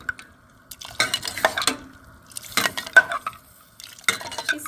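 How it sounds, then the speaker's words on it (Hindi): Kashmiri pink tea is stirred in a pot, with bursts of scraping and clinking from a spoon against the metal coming in three rhythmic rounds separated by brief quiet gaps, close up, with no talk. "और फिर से अच्छी तरह से इसको मिक्स करेंगे।"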